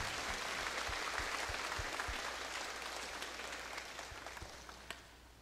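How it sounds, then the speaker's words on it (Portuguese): A church congregation at a Novena to Our Lady of Perpetual Help claps together in sustained applause for the Holy Mother of God, a dense patter of hands that slowly fades, heard faintly and at a distance. "uma salva de palmas para a Santa Mãe de Deus"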